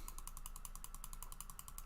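Online wheel of names spinning with a rapid, steady ratcheting tick, a fast even run of clicks that continues alone and at moderate level throughout.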